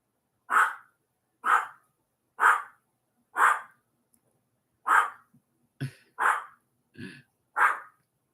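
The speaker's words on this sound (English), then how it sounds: "she just kind of jerks around and barks and has a good time with herself" A dog barking indoors while playing on furniture: eight sharp, evenly spaced barks close to the listener, loud and clear against silence.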